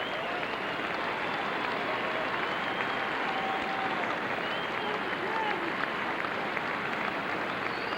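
Large arena crowd at a state high school wrestling final applauds after the match, producing a steady, even roar of clapping that sounds distant and uniform, almost like rain, lasting throughout.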